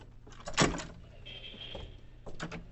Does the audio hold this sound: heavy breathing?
no